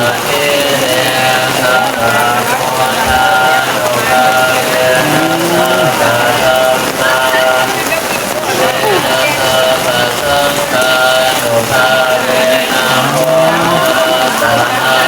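Heavy rain pours during Buddhist Lent alms giving in Laos, a dense, loud hiss of rain on surfaces with crowd murmur and voices talking underneath throughout.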